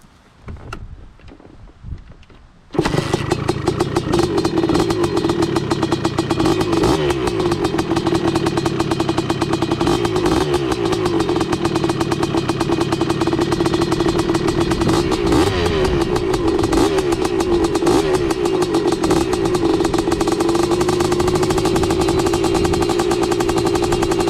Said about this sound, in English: just light revs, revving it a little higher each time I do it, and then I'll be able to take it for a ride